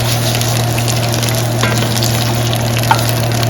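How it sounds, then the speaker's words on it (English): Onion sautéing in hot extra virgin olive oil for a vegetable soup, a steady, continuous frying hiss close by with a low constant hum underneath and a couple of faint clicks, no voices. "place our onion into the hot oil. Extra virgin olive oil."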